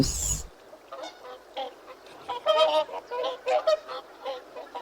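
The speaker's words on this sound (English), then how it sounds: "goose," A goose honks repeatedly at close range in a busy, continuous run of nasal calls lasting several seconds, with a brief bright burst at the very start.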